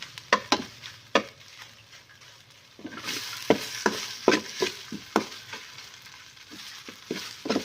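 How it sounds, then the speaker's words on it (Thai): Aromatic chili paste stir-fried in a little oil in a pot: a steady sizzle rises after a few seconds, broken by repeated scraping and stirring strokes, close by, with no talk. "ในหม้อนี่ป้าได้ใส่น้ำมันไปนิดหน่อยนะเจ้าเผื่อ จะคั่ว น้ำพริกเนี่ยเจ้า น้ำพริกหอมก่อนนะเจ้าเนาะ"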